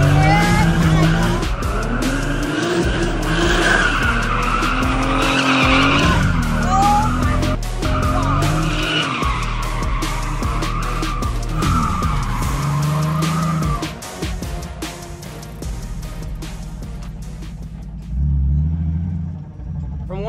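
A race car drifts hard around a back lot, its tires shrieking in long, wavering squeals over a roaring engine with rising and falling revs, loud and close, easing to lower rumbling near the end.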